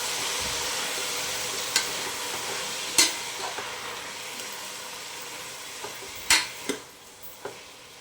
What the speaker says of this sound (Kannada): ಇದೆಲ್ಲ ಆಯಿಲಲ್ಲಿ ಚೆನ್ನಾಗಿ ಫ್ರೈ ಆಗಬೇಕು